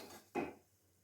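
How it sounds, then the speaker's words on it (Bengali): A spatula scrapes chopped vegetables for dalia into a pressure cooker, giving one brief, close metallic scrape and clatter that fades quickly into quiet. "সবজিগুলো খুন্তি করে সব প্রেসার কুকারে এইভাবে আমি দিয়ে নেব।"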